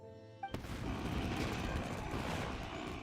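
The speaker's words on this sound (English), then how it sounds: "Yoimiya, this is turning into a bit of a fireworks display." Fireworks burst in Genshin Impact with a sudden sharp bang after a faint musical tone, followed by a dense crackling, rumbling roar of continued explosions that holds loud to the end.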